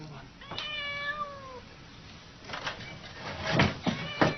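A cat gives one clear, rising-then-falling meow near the start, followed by a few shorter, rougher mews and thumps, all close and fairly loud.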